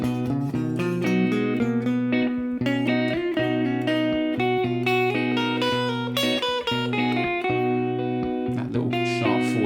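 Guitar melody played over a repeating looped chord, single notes moving in a dreamy, floating major mode with a raised fourth.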